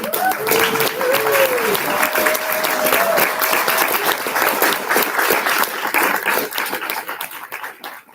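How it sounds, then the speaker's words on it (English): Steady applause from a conference plenary audience fills the whole stretch, dense clapping that holds evenly before thinning slightly toward the end, with faint voices mixed in. "give these folks a profound round of applause"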